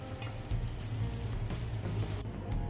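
Thrrus-style varutharacha sambar for Onam boils in a pot, a steady bubbling and gurgling wash that holds at an even level throughout with soft pops, close by and with no voices.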